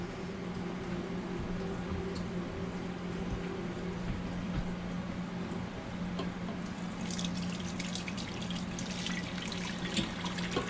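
Water runs steadily as a sink is rinsed out and poured through a fine strainer after making lobster bisque, a continuous close trickle and splash with a few louder drips and clatters near the end.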